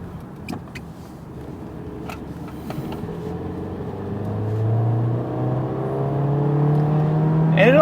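A stock 2022 Volkswagen Jetta with a 1.5-liter turbo engine and six-speed manual revs up, its engine note climbing steadily and growing louder over several seconds, with a quick sharp sweep at the end.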